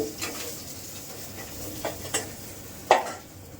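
Fish frying in a pan in a home kitchen, with a light background sizzle and a few sharp scrapes and clinks of a utensil against the pan, one louder knock near the end.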